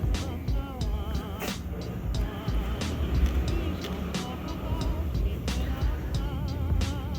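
A salvaged Takai cassette deck's mechanism runs after play is pressed, a steady mechanical whir and rumble with irregular small clicks and ticks throughout, fairly close and continuous.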